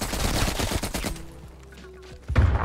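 Rapid automatic gunfire from an AK-74 in the video game Black Ops Cold War: a loud, dense volley of shots for about a second, a quieter stretch of scattered distant shots, then another sharp burst at the end.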